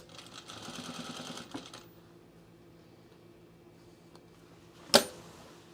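A sewing machine stitches a sewn rug for under two seconds, a close mechanical whir that stops abruptly. Near-silence follows, then a single sharp click or thump near the end.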